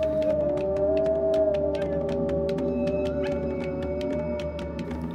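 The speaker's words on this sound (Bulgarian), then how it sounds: "Минаващите наблизо бизони чуват възторжения вой на вълците." Wolves howl in a long, sustained wail over a dense bed of music with steady rhythmic percussion, the howl sliding gently in pitch and holding for several seconds.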